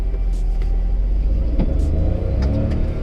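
A Hyundai Venue iMT in Sport trim, first gear with the accelerator pressed for a launch, gives a low, steady engine rumble with a slight rising revving tone, close and continuous, with no speech.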